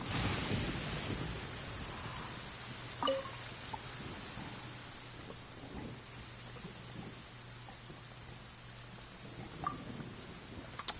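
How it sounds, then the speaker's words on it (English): Rain falling with rolling thunder in Genshin Impact, a quiet steady patter on surfaces broken by a few distant thunder cracks and rumbles, with no voices. "You're setting up in the rain."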